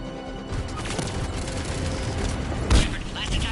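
Dense, continuous exchange of gunfire in the sci-fi shooter game Mass Effect 3, with a sharper, louder burst near the end, mixed with overlapping battle chatter from character voices.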